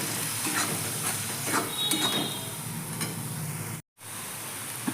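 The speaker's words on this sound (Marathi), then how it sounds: "टमाटरही थोडं चांगलं भाजून द्यायचं कांद्यासंग" Chopped tomatoes frying with onions in an oil-filled pan for a spicy Maharashtrian mutton curry, a steady close sizzle with a few scraping stirs and a brief dropout near the end.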